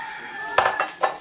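A knife slicing onions into long julienne strips in a home kitchen, with three crisp chopping strokes striking the board at an uneven pace, close and moderately loud.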